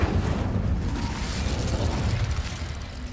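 The Incendio fire spell is cast in a video game, a loud, sustained roaring whoosh of flame and rumbling burst that fills the short clip without letup.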